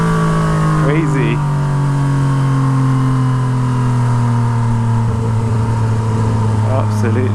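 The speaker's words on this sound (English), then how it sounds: "You can't beat the pops of the MT09" A Yamaha MT09 motorcycle with a straight-pipe Toce exhaust holds a loud, steady engine drone with rising and falling revs and a few sharp pops, up close, with a voice speaking underneath.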